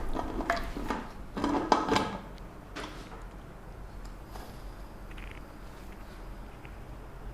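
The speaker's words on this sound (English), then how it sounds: "Let's cover the cooker." A lid clatters and knocks onto a pressure cooker of simmering sambar in a kitchen, a few brief metallic bumps and scrapes at the start, then quiet low background with faint clicks.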